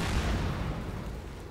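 Explosive charge detonating in the video game Metro Exodus, a loud, heavy low boom that rumbles continuously and fades slowly.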